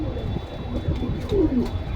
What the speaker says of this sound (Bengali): এই যে দেখেন দুই পিস কবুতর